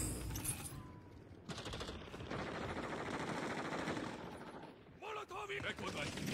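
Rapid gunfire in a shooter video game, bursts of automatic shots rattling in quick succession with brief gaps, loud and close under faint background noise.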